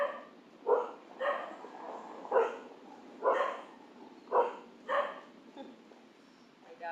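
Several dogs bark in a rough, repeated series of sharp woofs and yips, about seven bursts spaced unevenly at moderate distance against a quiet background.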